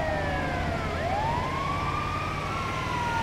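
An ambulance siren wails in the GTA V video game, a loud wavering electronic tone sweeping up and down continuously over a rumbling vehicle engine.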